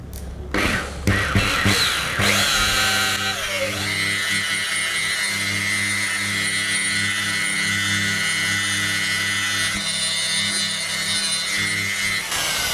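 A polishing machine with an orange pad whirs steadily while buffing car paint, a loud, continuous droning tone that holds evenly after a rough, scuffing start.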